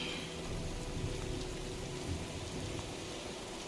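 Storm rain in the video game Heavy Rain, a steady, dense hiss of falling rain with a low rumble underneath, heard with no speech.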